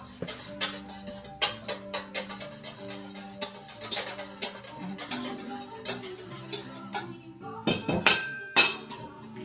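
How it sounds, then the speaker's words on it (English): Figgy pudding batter whisked in a bowl, rapid metallic clinks and taps of a whisk against the bowl in quick irregular bursts, close and fairly loud, with a soft ringing tone underneath. "Whisk it just a little. and then you're gonna whisk it a little."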